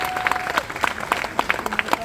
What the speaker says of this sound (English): Let's give it a little big round of applause.